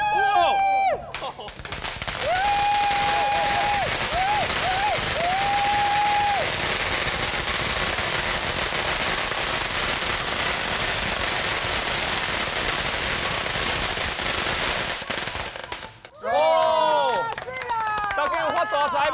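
A long string of firecrackers set off at a festive celebration crackles in a dense, continuous barrage for over ten seconds, with voices and cheering heard just before and after the burst.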